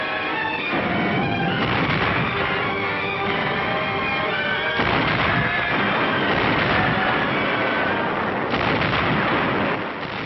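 A high-trajectory artillery duel between 155mm howitzers: dense, continuous booming blasts that overlap in a sustained rumble, loud and unbroken for the whole stretch.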